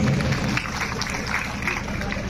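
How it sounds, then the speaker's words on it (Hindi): Applause from an audience at a hospital foundation-stone ceremony in Nawada, Bihar, a steady dense patter of many hands clapping throughout, with crowd noise mixed in. "एक बार पुनः तालियां चाहूंगा आप सभी की तरफ से"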